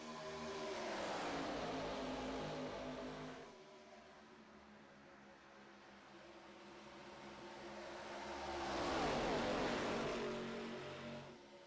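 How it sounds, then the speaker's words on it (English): A NASCAR stock car in the iRacing sim rises and fades in a long engine roar as it passes, pulls away, then sweeps in again, with its tone shifting as revs change through the corner. "You can hear he's just not using a ton of engine trying to come off that corner"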